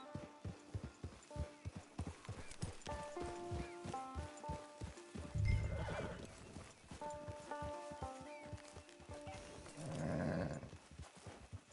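A horse in the Red Dead Redemption 2 online game plods along with a steady, close clip-clop of hooves, broken by a couple of snorting whinnies over faint background music.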